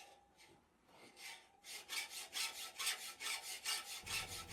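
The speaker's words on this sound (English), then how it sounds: "At this point I'll start filing in a different direction" A hand file working a forged hook knife blade: rhythmic back-and-forth rasping strokes, about a dozen in quick succession, loud and close after a quieter start, with no talking.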